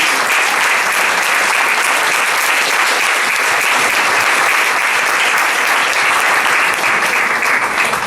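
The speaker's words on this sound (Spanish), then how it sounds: "¿Cuánto le damos un aplauso al Señor?" A church congregation applauds in a dense, even burst of loud clapping that holds steady throughout with no pauses.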